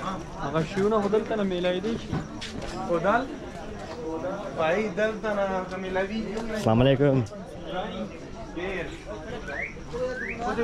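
Birds offered for sale at a market in Pakistan coo and chirp in a busy stall, heard beneath near, steady conversation and general crowd noise.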